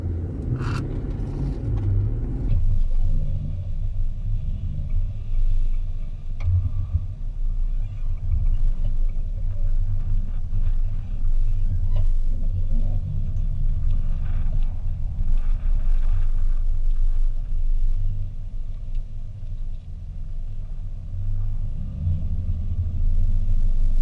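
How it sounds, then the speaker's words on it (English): A Nissan Patrol engine rumbles steadily for the whole stretch, heavy low drone with slight changes in effort as it drives across a desert sand dune. "we're going to show you what happens to the car when it goes across the dune"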